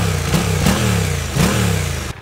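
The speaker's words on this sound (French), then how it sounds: "Je trouve que au ralenti, la sonorité est plutôt chouette." Suzuki GSX-8S motorcycle engine idling close by, a steady low throb with small rhythmic pulses and light blips, cutting off at the end.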